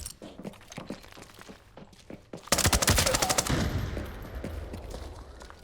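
Gunfire in the shooter game Arena Breakout: scattered single shots and thuds early on, then a loud rapid burst of automatic fire followed by a lingering rumbling tail.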